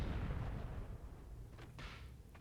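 Artillery barrage in the strategy game Myth II Soulblighter, heard as a faint rumble of overlapping low booms that fades, followed by a couple of brief sharper impacts.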